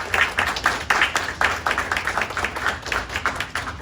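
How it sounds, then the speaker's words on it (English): A room of people claps together in sustained applause, moderately loud and close, with no talking over it. "give yourself one last round of applause for the job that you guys did this week."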